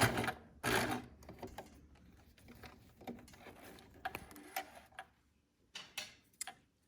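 A sewing machine stitches a DIY cloth face mask in quick mechanical bursts, with a fast ticking run near the start and shorter stops and starts later, close and fairly quiet, with no voices.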